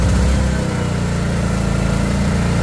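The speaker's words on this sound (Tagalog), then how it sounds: "Ayan, parang hirap na hirap ang makina. Bakit? Kasi naka-choke." A Greenfield 4000W inverter generator with electric start runs on choke, its engine chugging roughly and labouring with a steady low throb that stays loud and unbroken, with no one talking.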